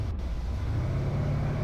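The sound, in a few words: car engine in video game BeamNG.Drive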